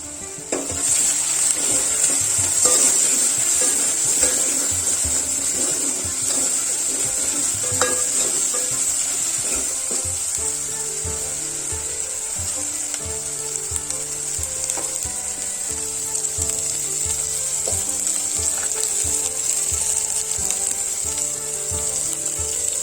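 Ginger, onion and turmeric fry in a pan for chicken curry, giving a steady close sizzle with occasional stirring scrapes that runs unbroken with no talking.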